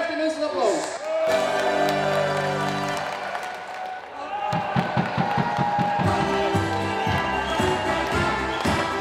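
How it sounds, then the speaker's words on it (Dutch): Crowd applause and cheering at a schutterij competition show, loud clapping and shouts mixed with a steady band playing, voices calling out over the music. "Geef de mensen een applaus"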